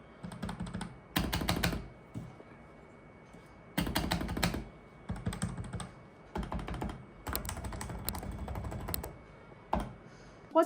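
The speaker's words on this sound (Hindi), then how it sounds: "ये एक मेम्ब्रेन कीबोर्ड है, तो इसका जो साउंड है वो बहुत ही अच्छा है" Bursts of rapid typing on a budget membrane computer keyboard, the soft muted keystrokes arriving in fast clusters separated by short pauses, close and fairly quiet with no talk.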